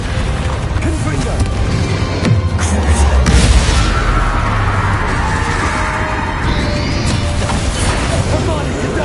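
A Confringo fire spell goes off during combat in the video game Hogwarts Legacy, a booming burst over dense, loud battle noise, with a voice speaking over the action.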